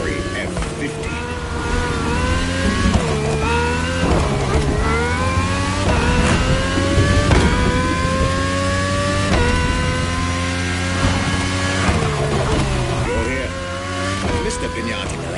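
A Ferrari F40 and a Ferrari F50 rev their engines loudly and close by, with repeated rising and falling howls and a sustained throaty drone across the whole stretch.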